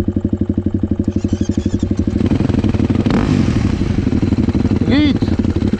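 A Rieju R1 motorcycle engine runs loud and close, its steady pulsing idle shifting pitch and roughening as gears are changed, with a brief clatter partway through.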